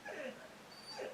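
A dog gives two soft, high whimpering whines, one at the start and one near the end, fairly close and quiet, with no talking.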